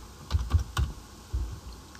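A few quick, close keystrokes on a computer keyboard while a short word is typed into a Java NetBeans program, a small burst of taps and then one more after a pause.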